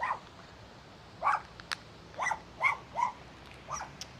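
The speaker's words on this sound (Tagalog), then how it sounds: "baka mangagat yung mga aso" Several dogs at Lion's Head in Baguio bark in a string of short, sharp woofs and yips, moderately close over light outdoor noise.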